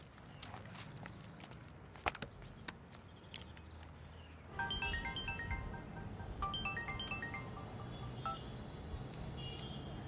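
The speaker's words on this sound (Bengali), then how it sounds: "বাবু দাকে ফোনটা করেছিলে?" Scattered clicks and knocks, then a quick run of short electronic beeps like phone keypad tones, close by over a low background hum.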